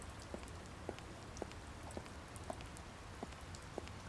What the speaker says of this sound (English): It's only raining a little bit here.